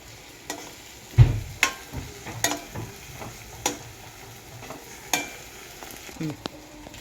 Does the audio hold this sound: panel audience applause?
no